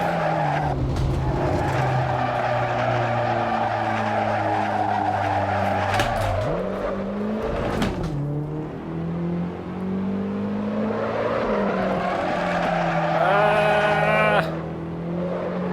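A BMW E30 skids and wrecks at Silverstone in the racing game Assetto Corsa: a loud droning engine with long tire squeals, a sharp crash, then revving and screeching again.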